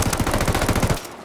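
Loud, close automatic gunfire from the Ghost Recon Wildlands video game, a rapid rattling burst of shots that cuts off abruptly into quiet near the end.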